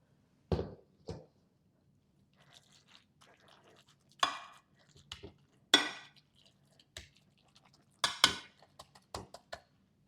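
Eggs being sliced over a chicken noodle casserole, a handful of sharp knife-and-dish clicks and taps spaced across a quiet kitchen, with faint soft handling noises between them.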